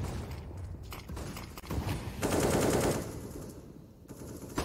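Counter-Strike pistol gunfire on the Nuke map at a PGL Major match comes as rapid, clustered shots mixed with mechanical clatter, loud and busy throughout, with no talk.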